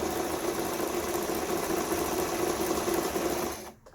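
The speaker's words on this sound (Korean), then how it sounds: "지그재그 바느질로, 지그재그 바느질이 5번이죠. 요건 이제 오버록 대용으로 옷감이 풀리지 않도록 이렇게 박음질을 해줍니다." A Brother sewing machine stitches a dense zigzag seam along fabric edges, its steady rapid whirring and clatter running close and continuous before stopping abruptly near the end.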